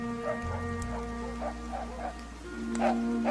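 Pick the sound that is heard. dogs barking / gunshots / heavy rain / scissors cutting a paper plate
dogs barking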